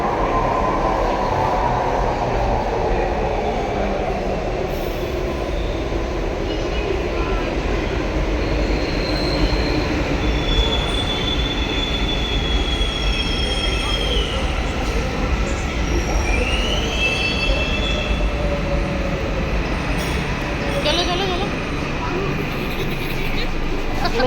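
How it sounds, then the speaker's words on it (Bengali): Train ride in a railway carriage, a steady loud rumble of wheels on track with long high squeals rising and falling as the wheels grind, faint passenger chatter beneath. "কালিনানপুর থেকে ট্রেনে করে আসলাম দমদম"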